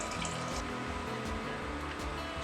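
Water runs steadily into a pot for boiling pasta, a continuous soft gurgling pour heard close but at low volume with no one talking.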